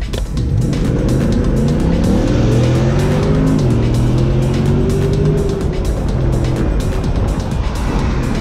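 A car driving hard in track mode in Los Angeles, its engine loud and continuous as it revs up through the gears with rising and falling pitch, close and sustained, with no talking.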